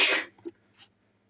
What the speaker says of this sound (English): had a sneezing fit